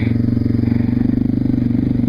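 A motorcycle engine idles and pulses at close range for a stand-up wheelie, a rapid throbbing exhaust beat that holds steady before a brief revving surge near the end, with no voices.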